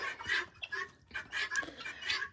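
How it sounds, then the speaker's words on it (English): Guinea fowl calling as they are let out of their farm coop, rapid harsh repeated cries in close, overlapping bursts. "We're letting the guineas out."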